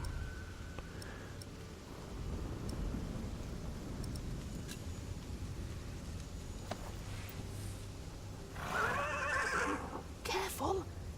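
A horse neighs in the video game The Pillars of the Earth, a loud whinny near the end over game ambience, with voices speaking around it.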